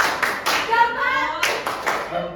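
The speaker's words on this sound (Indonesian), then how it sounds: "Yuk mulai ya, tepuk salam." Children in a classroom clap a rhythmic greeting, quick bursts of hand claps in a patterned beat with voices chanting along.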